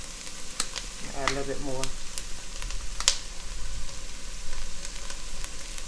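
Garlic sizzles steadily in a gumbo roux as a near, continuous frying hiss, with occasional utensil taps and a brief spoken remark over it.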